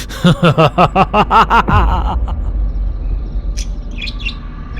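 A bird calling in a tree, heard as a rapid series of about eight loud, close, evenly spaced chattering notes, followed by fainter scattered chirps over a low background rumble.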